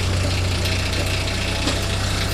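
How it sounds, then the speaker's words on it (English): A tractor engine runs steadily at a loud, close idle-like drone, driving a PTO-mounted Uniforest forestry winch, with a constant low rumble and slight knocking vibration and no talk. "engage your tractor and drive forward"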